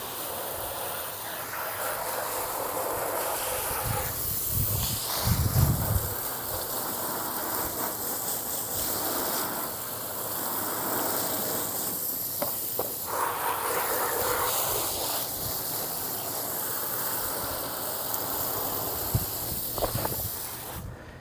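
EGO pressure washer spraying water over truck floor mats, a steady broad hissing rush that runs close and loud for the whole stretch, with brief shifts in tone as the spray moves across the rubber.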